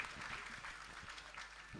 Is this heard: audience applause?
yes